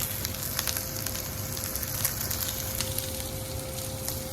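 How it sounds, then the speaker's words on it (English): Steady, close sizzling from rib eye steak frying with garlic in a hot pan, a continuous hiss with small crackles and pops throughout. "Our steak is still sizzling away here beautifully."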